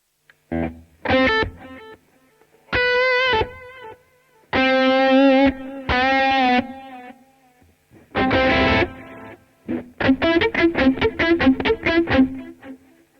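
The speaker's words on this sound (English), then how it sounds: "a little bit of modulation on there, makes it sound like an old tape machine" Distorted electric guitar through a Blackstar ID Core V3 amp's tape delay plays short bursts of notes and chords with gaps between, each phrase smeared by repeating echoes and a wobbly, warbling modulation.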